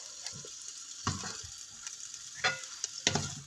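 Green beans tossed into hot oil in a pan for chopsuey, with soft sizzling under intermittent scraping stirs and clatters of a utensil against the pan, close and fairly quiet, no voices.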